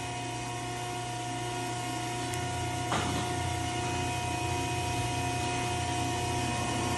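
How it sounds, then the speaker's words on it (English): A 2010 Betenbender 4-foot by 1/2-inch hydraulic shear cutting 1/4-inch plate: a steady hydraulic hum and whine throughout, broken by a single short crunch of the blade partway through. "we'll shear some 1/4 inch plate"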